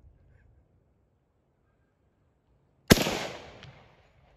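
A single sharp, loud rifle shot from an SMLE Mk III* or Ishapore 2A1 cracks out of near silence outdoors, followed by a decaying rumble and echo.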